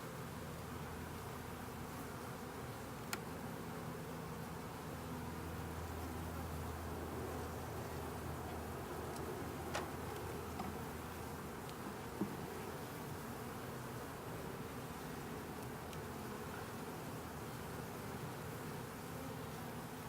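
Honey bees buzz steadily around an open beehive during a queenless split into a nuc, a constant dense drone throughout with a few faint clicks, and no talking.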